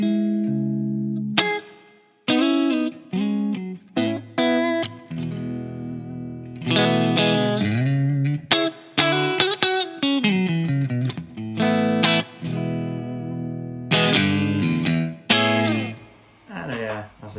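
Electric guitar run through a Line 6 POD GO with an impulse response, two reverbs and a looper, playing chorused, slightly driven chords and phrases with sustained washy tails and short gaps between passages.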